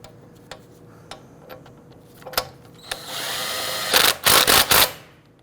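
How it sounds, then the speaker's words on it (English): A power impact tool tightens wheel lug nuts on a 2008-2013 Infiniti G37. Scattered light clicks and taps come first, then a steady whir builds, followed by several loud, short rattling bursts close by. "Go ahead and torque down your lug nuts to 80 foot-pounds."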